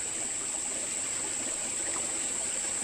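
Leftover water trickles and pours in a steady, even stream, close and moderately loud with no talking. A constant high whine runs underneath.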